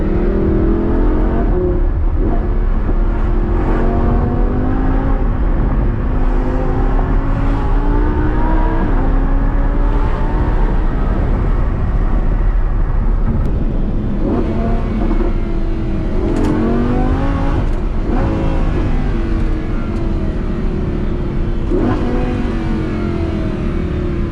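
A Lamborghini Huracan LP580-2 is driven hard, its engine loud and close, repeatedly revving up through rising pitch sweeps with gear changes and brief lifts between pulls, continuous and without speech.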